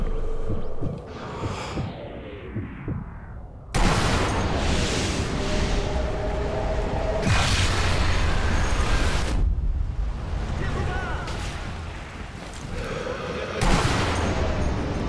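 Heavy tank cannon fire and explosions in the World War II sniper game Sniper Elite V2, loud booming blasts with crackling debris and rumbling battle noise across the stretch, several sharp onsets.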